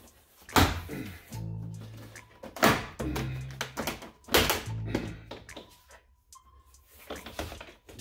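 Sharp thunks and plastic clip pops, several loud bursts spaced a second or two apart, as a door panel is yanked off a 2022 RAM 1500 truck, with quieter creaks and rustling between.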